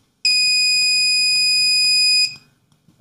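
Active buzzer driven by an Arduino Uno board gives one sustained, piercing electronic tone lasting about two seconds, close and loud, then cuts off into quiet room noise.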